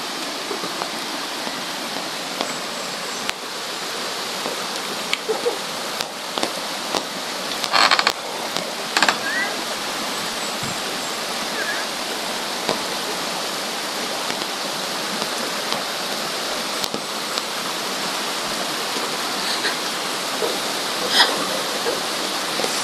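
A river in Dolores, Quezon, flowing with a steady broadband rush of water that stays constant throughout, with scattered clicks and brief knocks on top and no voices.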